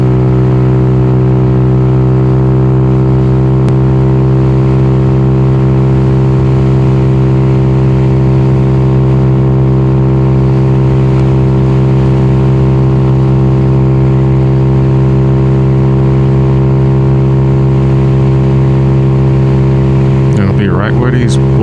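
Honda Navi motorcycle engine, fully warmed up, holding a steady loud running drone at constant throttle for a long stretch before the throttle is let off right at the end.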